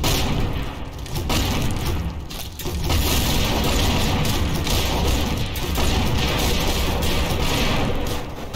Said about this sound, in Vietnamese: Và đây là súng phóng lựu.